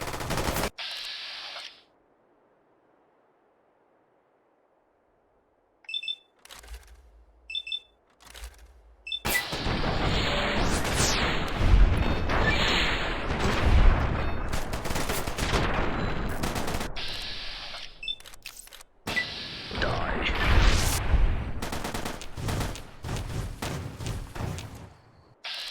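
Bursts of gunfire from Fallout: New Vegas, a modded game, break out after a near-silent stretch, then loud, sustained automatic shooting and rapid shots fill most of the clip.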